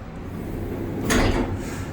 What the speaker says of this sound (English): Wow, okay, those doors had a little bump there.